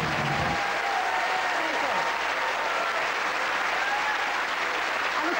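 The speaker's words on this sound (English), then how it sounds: "I think you all deserve a round of applause." A studio audience applauds steadily on a BBC quiz show for the whole stretch, dense sustained clapping with a brief voice at the start.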